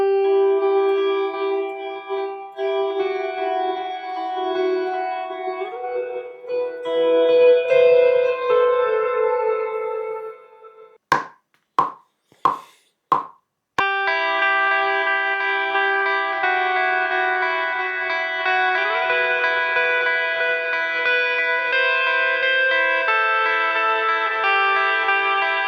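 Guitar played through an Old Blood Noise Endeavors Darklight effects pedal, with rate and depth set mild and some dry signal mixed in. Sustained shimmering, echoing chords ring out, broken midway by a few sharp repeated stabs, then a long wash of chords alone.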